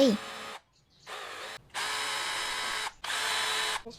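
A power drill bores into a wooden board for a DIY pegboard shelf, whirring in three sustained bursts separated by short pauses, close and fairly loud.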